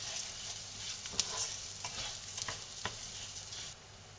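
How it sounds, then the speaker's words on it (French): Rice being stirred in a pan to toast for asparagus risotto: a steady soft sizzle with scattered scraping taps from the spoon, close and moderately quiet, no talking. "Je mélange pour le laisser un petit peu griller."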